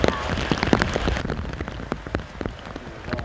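Rain falls steadily on a farm field, a dense close patter of drops striking the ground and nearby surfaces, with no voices.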